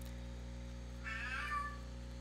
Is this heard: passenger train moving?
no